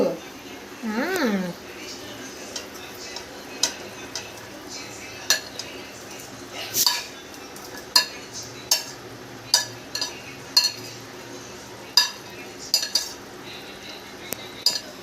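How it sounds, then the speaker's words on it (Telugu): Paneer pieces tipped into a curry and stirred with a spoon in a metal pan, giving repeated sharp scrapes and taps at a steady rhythm, close and fairly loud, with a brief voice near the start. "ఇది ఎప్పుడు వేస్తావు పన్నీర్ ఇప్పుడు వేద్దాం వేసే పన్నీర్ ముక్కలు చూపించటు"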